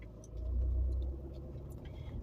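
A car drives toward town, heard as a steady low engine and road rumble from inside that swells briefly near the start and then settles into a continuous drone, with no talking.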